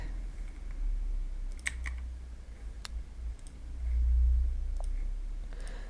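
Computer keyboard typing while filling in a website sign-up form, heard as sparse, light clicks scattered over a soft low hum, with no voices.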